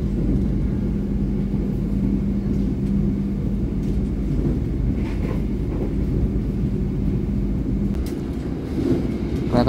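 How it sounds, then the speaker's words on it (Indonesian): A Mutiara Selatan passenger train runs straight through Ngawi station without stopping, a steady loud rumble of wheels and carriages that holds for the whole stretch, close by, with no talk over it. "Kereta api Mutiara Selatan melintas langsung stasiun Ngawi."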